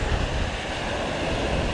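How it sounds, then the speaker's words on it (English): Broad, steady roar of breaking surf at Montauk on Long Island, small rolling breakers and white water washing continuously with a gusty wind-blown rush, loud and close throughout with no voices. "we got some good conditions, tons of white water, some nice small rolling breakers"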